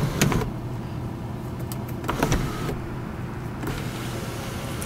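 A 2006 Chevrolet Monte Carlo's power sunroof motor whirs steadily inside the cabin, with a few sharp clicks and thumps as the panel moves and stops.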